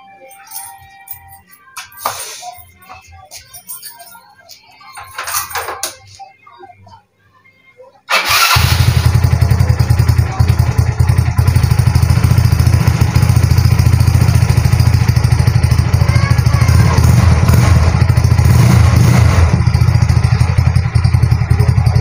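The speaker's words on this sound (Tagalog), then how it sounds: "pandarin muna natin para marinig nyo kung ano yung andar ng motor" After several seconds of quiet background sounds and faint voices, a motorcycle engine fires on a single start and settles into a loud, steady running drone close by for the rest of the stretch.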